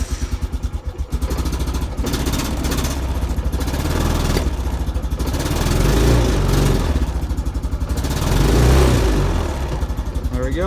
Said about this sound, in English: this thing, no choke, cold start right here. Fire right up.